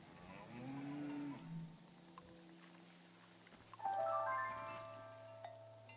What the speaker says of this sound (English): Happy cows.